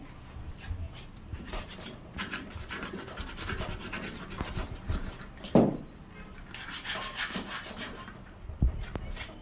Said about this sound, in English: So the next thing is to sandpaper it all around.